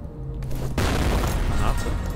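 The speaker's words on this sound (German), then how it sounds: "Granate." Grenade explosion in the video game F.E.A.R., a sudden loud boom that cuts in about a third of the way through and then rolls on as a dense, sustained rumble over a low game-ambience bed.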